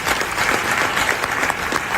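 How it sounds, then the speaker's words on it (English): An audience at a live keynote speaking event claps for a speaker, a loud, dense burst of many hands that runs steadily throughout with only a faint murmur of crowd underneath. "A round of applause, please, for Miss Samuel."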